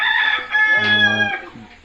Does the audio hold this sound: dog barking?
no